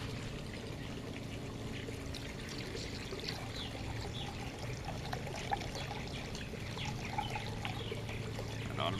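CV700 pool chemical being poured into a 15,000-gallon swimming pool near a return jet, a steady liquid trickle and splash that runs continuously over ambient outdoor noise.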